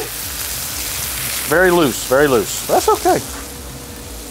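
Smash burgers frying on a hot griddle, a steady crackling sizzle like light rain running throughout, with someone talking briefly over it.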